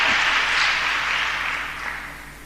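Church congregation applauding during an Indonesian sermon, a steady broad wash of clapping that fades slightly toward the end, with no voices over it.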